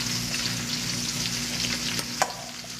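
Cornstarch-coated pieces fry in hot coconut oil in a pan, giving a steady, close sizzling crackle with a brief clink of a utensil near the end.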